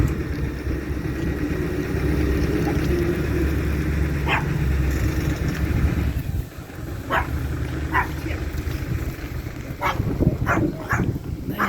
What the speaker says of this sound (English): Can hear Chip barking.